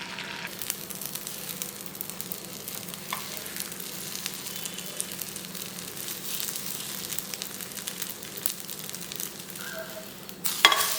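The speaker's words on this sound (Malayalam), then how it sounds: "എണ്ണ ചൂടാവുമ്പോൾ നമ്മൾ ബീറ്റ് ചെയ്ത് വെച്ചേക്കുന്ന മുട്ട 2 ഓംപ്ലേറ്റ് ആക്കി എടുക്കാം." Beaten eggs fry as an omelette in hot oil, a steady close sizzle hissing without pause for about ten seconds, with a few faint clinks and a brief louder scrape near the end.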